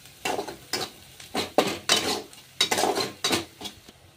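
Crushed peanuts frying in a kadhai for methi bhaji, a spatula stirring and scraping the metal pan in a steady rhythm of bursts over a faint sizzle, close and alone.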